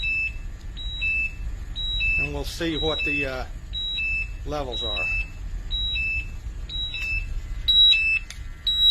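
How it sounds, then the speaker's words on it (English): A portable gas monitor alarm, set off by a hazardous atmosphere during a hose sampling test, beeps in a steady repeating pattern of short high double tones throughout, while a person talks over it. "You can hear the alarm going off."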